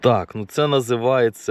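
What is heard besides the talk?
No everyday noises stand out.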